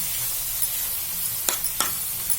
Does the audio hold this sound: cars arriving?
no